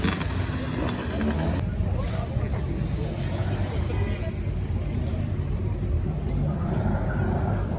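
A Seat car's engine runs steadily at a rally gathering, a dense low rumble with broadband noise throughout, fairly close, with a brief brighter burst at the start and faint background chatter.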